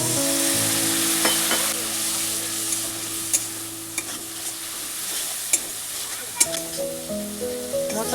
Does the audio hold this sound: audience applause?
no